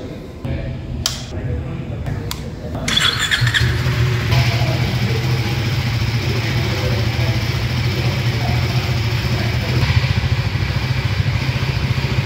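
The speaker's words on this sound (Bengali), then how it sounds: "আপাতত এটা একটু এক্সস্ট নোটটা তোমাদের একটু শুনিয়ে দিই।" A KTM 390 Adventure motorcycle idles nearby with a steady, throbbing single-cylinder exhaust note, preceded by a few clicks and knocks before the engine settles in, continuing evenly to the end.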